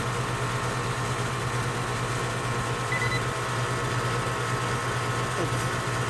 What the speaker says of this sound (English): so the air compressor is running